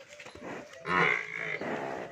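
A purebred water buffalo lows once: a deep, drawn-out moo, loud and close, with a few softer grunting breaths before it.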